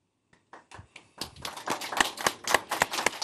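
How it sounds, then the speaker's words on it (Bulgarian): Applause starts with a few scattered claps, then builds into steady, fairly loud clapping from a small group. "Този път аплодисментите са за Пенка и ръката, която е сътворила това."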